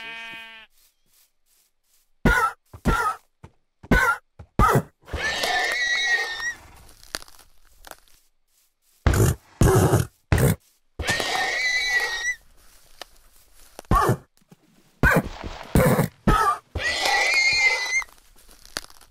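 Minecraft horses hit and killed for leather, giving repeated short bursts of harsh, breathy animal cries and crunching hits between quiet gaps, close and loud, with no talk.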